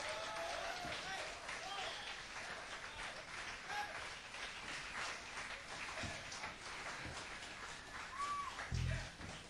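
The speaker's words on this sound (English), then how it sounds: "Let's give him a big round of applause, Mr. John Hammond, huh?" Applause and scattered clapping from an audience at a live blues show in a Syracuse club, a steady crowd sound mixed with someone talking over it.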